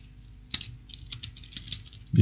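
Someone types on a computer keyboard while editing text: a steady run of light, quick key clicks at close range over a low background hum, with one sharper keystroke near the start.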